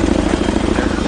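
A Chinook military helicopter at a battlefield evacuation point, its heavy rotor thumping loud and close in a rapid, steady pulse.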